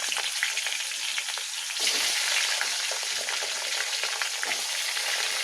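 Potatoes frying in a pan of hot oil with nigella seeds, a steady loud sizzle with occasional stirring, no voices.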